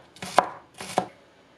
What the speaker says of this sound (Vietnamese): 2 cọng hành lá cũng cắt nhỏ.